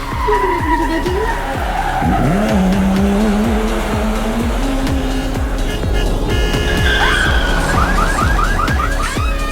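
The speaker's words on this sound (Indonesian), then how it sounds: "Kendaraan mobil berwarna merah melaju cepat dan kehilangan kendali" Tires screech and skid as a red car in the Sakura School Simulator video game speeds and loses control, a loud continuous engine roar with rising squeals and rapid chirping skids near the end, with faint talk underneath.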